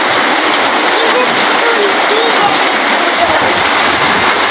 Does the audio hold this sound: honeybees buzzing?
no